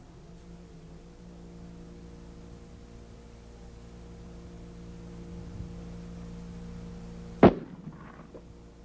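A bullet fired at 3120 feet per second, the same bullet used in the 7.62 NATO, strikes a can, making one sharp, loud crack after a long stretch of steady low hum, followed by a brief fading rattle.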